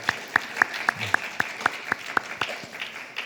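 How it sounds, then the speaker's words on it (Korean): Church youth congregation clapping in praise to God: steady rhythmic unison claps, about four per second, close and crisp, with a softer clatter beneath. "영광의 박수 하나님께 올려드리겠습니다."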